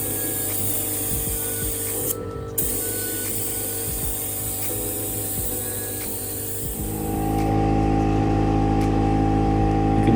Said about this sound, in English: here's also spraying more urethane